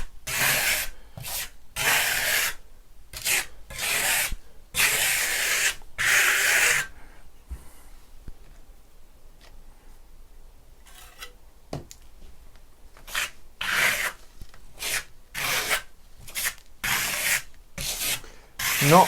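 A steel trowel sweeping Venetian plaster top coat across a wall in fan-like strokes, giving bursts of sharp scraping rasps in quick rhythmic sets, with a quiet pause midway before the strokes resume, close and alone.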